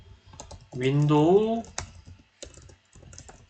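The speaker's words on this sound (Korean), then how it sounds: "윈도우 키 누르고 마침표" A few scattered keystrokes on a computer keyboard, pressing the Windows key and the period key, close and light, with a brief voice heard between the clicks.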